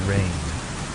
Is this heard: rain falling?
yes